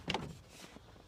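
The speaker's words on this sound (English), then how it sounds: "Open up this back door." Back door of a 1982 GMC C20 3+3 crew cab pickup opening: a brief metallic latch click and creak up close, then a quiet settling rattle.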